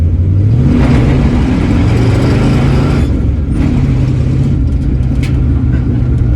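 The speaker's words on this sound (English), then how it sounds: "But give you guys a little farewell burnout" A 1965 Ford Mustang with a freshly broken-in engine does a burnout on the street, its loud engine revving hard and steadily under load, with a rough pulsing drone and a brief dip midway before the roar carries on.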